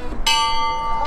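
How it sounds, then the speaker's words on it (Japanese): The lovers' bell at Umihotaru rung once, a bright, loud metallic clang that rings on and then sounds again at the end. "カップル鳴らすと永遠に結ばれるっていう噂の鐘です"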